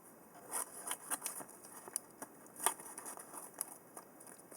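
Scissors snipping paper to shape a 3D star Christmas ornament: light, quick clicks and crisp cuts in an uneven rhythm, close but faint, with no talking.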